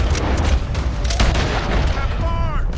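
Gunfire from a Red Dead Redemption 2 shootout, loud booming shots that keep going across the whole stretch over game music and effects.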